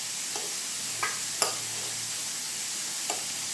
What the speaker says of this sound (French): Là, on tourne un petit peu les pickles d'oignons